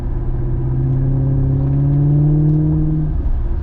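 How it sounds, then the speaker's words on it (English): A Maserati GranTurismo with a naturally aspirated Ferrari V8 rumbles low and strong, a deep steady engine tone rising slightly in pitch as it revs, close and continuous without speech. "This car just makes such an awesome sound. And it's thanks to that Ferrari V8 engine, naturally aspirated."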